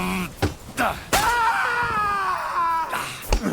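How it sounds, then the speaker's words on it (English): An enemy soldier screams in Kingdom Come: Deliverance II, a long wavering, drawn-out cry with strained tonal wails, preceded by sharp impacts and followed by another thud. "Good scream"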